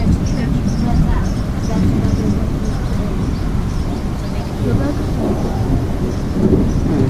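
A severe thunderstorm over Wentzville, Missouri brings heavy rain and intense lightning. Thunder rumbles low and continuously beneath a loud, steady downpour, and a voice can be heard at times.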